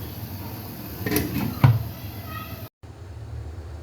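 A metal lid is set down on a cooking pot of chicken kofta curry in a home kitchen, giving a short clatter and a clink, followed by a quiet background hum.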